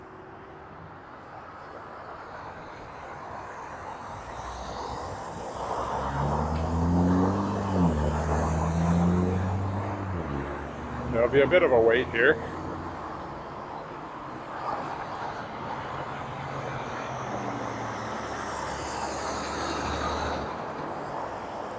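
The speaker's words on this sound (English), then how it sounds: "Just watch the cars go by." Cars and trucks drive past on a city street beside railroad tracks in Regina, a steady roar of traffic swelling as heavy vehicles pass, with a brief hiss of air brakes and a person speaking briefly.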